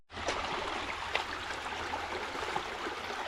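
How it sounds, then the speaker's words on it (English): A creek flows steadily nearby with a continuous rushing, trickling wash of water and no voices. "It was a beautiful creek nonetheless."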